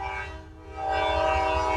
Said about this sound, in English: There's that awesome train.